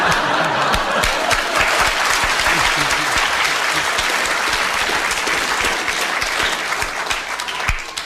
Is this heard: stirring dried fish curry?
no